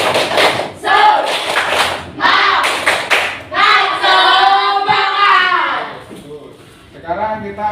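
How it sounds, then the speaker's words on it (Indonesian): A class of schoolchildren does a rhythmic clapping chant, the tepuk semangat, with loud group claps and chanted voices trading in bursts, close and lively. "Tepuk semangat."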